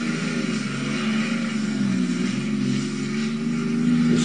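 A pulling tractor fitted with two 12-cylinder aircraft engines drones in a heavy, sustained roar at a Dutch tractor pulling event, steady and loud throughout, with no voices.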